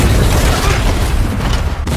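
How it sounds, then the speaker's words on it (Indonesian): A loud, sustained roaring blast fills the whole clip, deep and rumbling, like a close explosion as a door is opened, with debris and noise continuing throughout, from the TV series Squid Game. "saat dua orang membuka pintu itu meledak"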